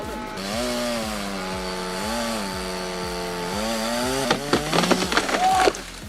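A chainsaw runs at a steady pitch while cutting a tree, its engine droning with slight dips under load, then cracking and splintering wood bursts out near the end.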